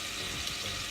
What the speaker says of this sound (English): our chicken is kind of frying away